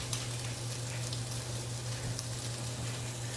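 Food sizzles in a hot pan, a continuous crackling fry with scattered sharper pops and a steady low hum underneath, no voices.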